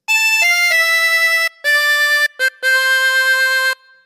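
Close, bright harmonica notes carry a phrase of God Save the Queen: several held tones, a quick pair of short notes, then a long final note, played alone without talk.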